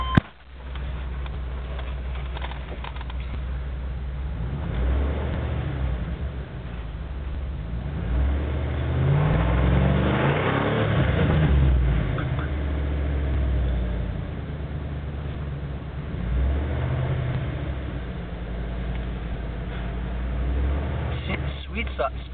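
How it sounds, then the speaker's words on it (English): A loud 318 V8 engine in a 1994 Jeep Grand Cherokee rumbles and revs with no tailpipe, surging up and settling back several times, a deep throaty roar up close. "I'm just going to enjoy it for a few days with the loud exhaust"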